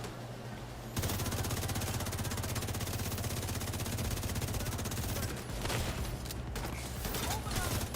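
A gun fires in The Division 2 as a fast, dense, continuous stream of rapid shots that starts abruptly and runs steadily and loud, with a brief stutter near the end.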